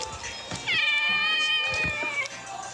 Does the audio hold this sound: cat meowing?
yes